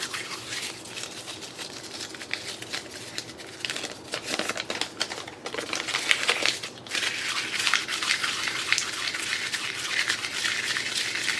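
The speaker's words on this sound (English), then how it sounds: "Oh, I gotta crumple. I have to crumple." Paper crumpled by hand at a crafting table while making a Christmas journal cover, a close, continuous crackling and crinkling that swells and sharpens toward the end, with no voices.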